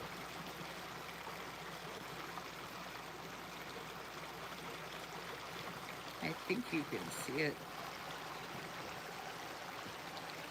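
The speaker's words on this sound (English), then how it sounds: "I'm gonna try to show you the creek." A mountain creek flows in a steady, quiet rush of water throughout, with brief speech rising over it near the end.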